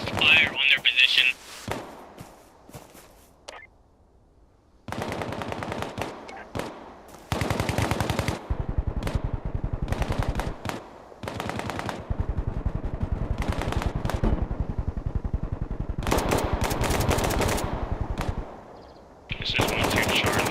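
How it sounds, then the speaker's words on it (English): Sustained bursts of automatic gunfire hammer a position in a tactical military game, loud, dense volleys with short gaps between them, while radio-style voices talk in the pauses. "It sounds like there's suppressed fire on their position."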